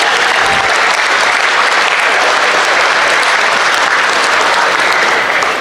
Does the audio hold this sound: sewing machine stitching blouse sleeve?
no